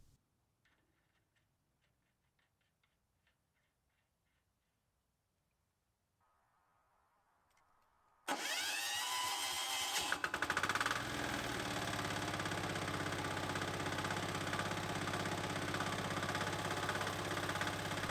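A Progarden Campo mini tractor engine is started after near silence and a few soft clicks, catching abruptly and then settling into a loud, steady idle that continues to the end.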